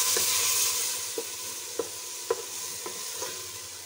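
Onion and spice masala frying in a pan hiss steadily up close while a spoon knocks and scrapes the pan several times at an uneven pace.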